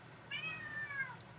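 A cat gives a single drawn-out meow lasting about a second, faint and a little distant over low room hum.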